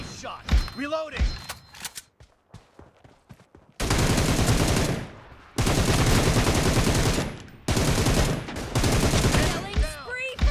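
Gunfire in a BGMI team deathmatch plays as long, loud bursts of rapid automatic fire, separated by short gaps with quieter single shots and game voice callouts.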